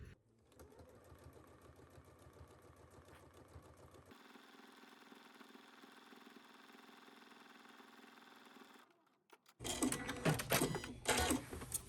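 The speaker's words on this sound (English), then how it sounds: "go ahead and stitch along this line here" Sewing machine stitching a seam on a strap for a Know Me ME2107 garment, a steady close mechanical whir running for several seconds, then pausing briefly before a louder burst of clatter near the end.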